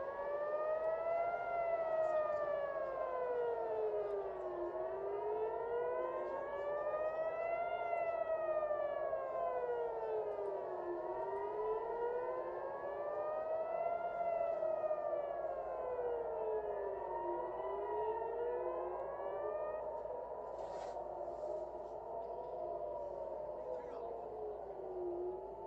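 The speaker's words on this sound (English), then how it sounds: "Sirens going off in Tel Aviv right now." Wailing air raid sirens rise and fall in long, slow sweeps, overlapping from several directions across Tel Aviv, Israel, steady and loud throughout.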